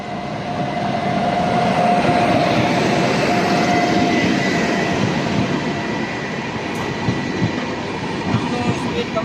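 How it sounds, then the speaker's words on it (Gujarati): A train pulls in at platform number 1 of a railway station, a loud, sustained rumble of wheels and carriages with faint rhythmic clatter, and a voice talks over it. "આ ટ્રેન પ્લેટફોર્મ નંબર 1 ઉપર આવી રહી છે ટ્રેન"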